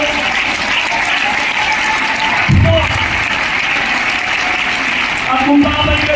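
A church congregation claps during a Tagalog sermon as a steady, broad wash of applause with mixed talk, and a couple of louder low thumps stand out.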